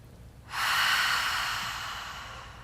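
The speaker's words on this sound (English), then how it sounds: "take a big inhale through the nose. Open your mouth, release it" A single deep breath during a beginner hatha yoga session, a sudden close airy rush that starts loud and slowly fades over about two seconds, with no talking.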